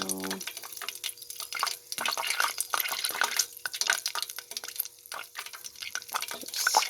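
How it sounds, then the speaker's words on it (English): Foam being skimmed off melting butter while making homemade ghee, with continuous sizzling and bubbling plus soft spoon scrapes and clinks close up, steady throughout with no talking. "You skim off this little bit of foam that comes to the top."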